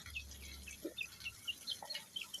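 Chickens kept in a cage in a sun-exposed backyard in Nonthaburi, Thailand give several short, separate clucks and calls, fairly close and moderately loud over a low rumble and faint background hiss.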